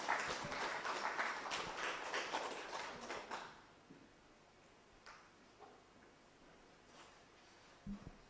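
Scattered clapping from a forum audience at a health summit, sparse and fairly faint for about three seconds, then tapering off into quiet room tone with a few isolated claps.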